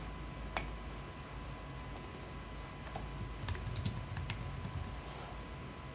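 Soft, sparse clicks of computer keys being pressed, a few quick taps in a quiet room with a faint steady hum.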